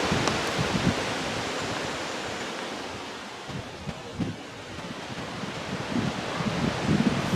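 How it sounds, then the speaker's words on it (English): Steady wind gusting around a campsite in the Appalachian Mountains on the Bad Fork Trail, a broad continuous rush that swells and eases over several seconds, with no talk. "A lot of wind today."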